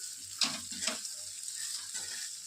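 Okra sizzles steadily in a frying pan over a medium gas flame, a continuous close hiss broken by a couple of brief stirring knocks, with no talking.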